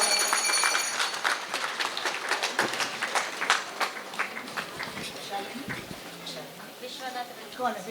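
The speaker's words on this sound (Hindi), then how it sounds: "सभी तालियां बजाएं जोरदार।" Audience applause at a Trimurti Shiv Jayanti celebration in a courtyard, a lively burst of many hands clapping that gradually thins and fades, with a voice speaking over it.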